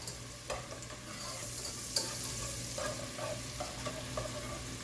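A whisk scrapes and clinks against a pot as garlic is worked into a chicken and broccoli cheese soup. Soft, steady sizzling and stirring runs throughout, with a few sharper metallic taps and no talking.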